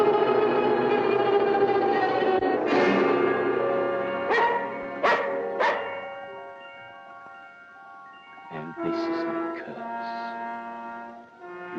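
A dog in the 1940 film The Thief of Bagdad gives a few sharp barks and whining, tonal yelps over a droning film soundtrack. The sounds are close and moderately loud.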